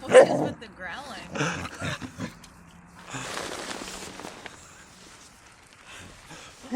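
A puppy growls, yips and whimpers in short bursts nearby while a person talks over and between the sounds.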